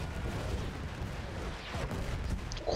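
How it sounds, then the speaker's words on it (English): Artillery bombardment in the World War I shooter Battlefield 1 forms a dense, continuous rumble of distant blasts and gunfire. A few brief sharper cracks rise out of the steady roar. "bombardovanje, šta se dešava?"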